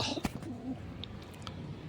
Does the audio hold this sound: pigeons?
yes